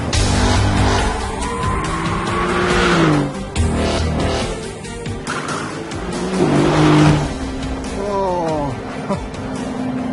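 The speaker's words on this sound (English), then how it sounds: "It's a big luxury car, powerful, enormous brakes, but still overwhelmed by its weight." Big, powerful luxury car with enormous brakes driven hard around a racetrack, engine surging and tires squealing through corners, with a commentator talking over it.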